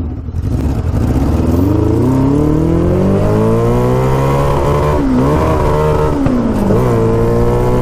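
A 650cc shifter kart engine fires up and revs hard in first gear, a loud, close buzzing drone whose pitch climbs steadily, dips briefly, then rises again, with no talking over it.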